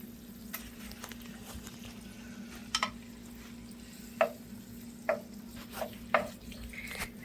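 Shrimp, onion and garlic fry in a pan with a low steady sizzle, broken by several soft stirring scrapes and clinks spaced a second or so apart, with no talking.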